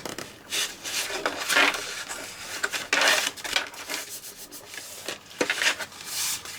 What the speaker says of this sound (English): Now this time we're going to fold the 2 inch sides in